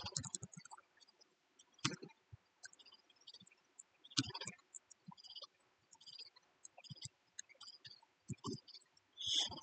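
Typing on a computer keyboard, with sparse, quiet key clicks in short irregular bursts against a near-silent background.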